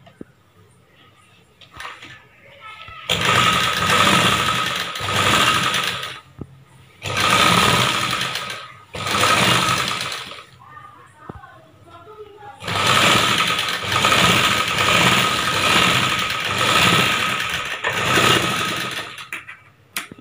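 Sewing machine stitching a round neckline on a chudidar top, running in several long bursts of rapid mechanical whirring separated by short pauses, close and loud.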